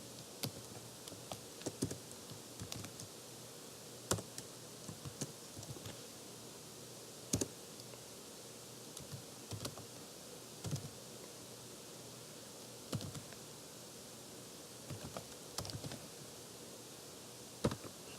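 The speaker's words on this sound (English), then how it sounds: "so you type in your username" Keys tapped on a computer keyboard while a username and password are entered at a Windows 7 login, producing sparse, irregular clicks in short bursts over steady background hiss, with no speech.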